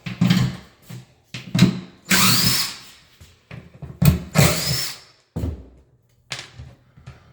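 A power drill removes screws from a wooden closet base in short, loud, close bursts that are spaced irregularly, with brief whirs and sharp stops between quieter gaps.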